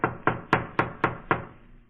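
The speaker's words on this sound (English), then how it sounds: "I better knock again." Six sharp knocks on a door in a radio drama, evenly spaced in a quick steady run, loud and close with no voices.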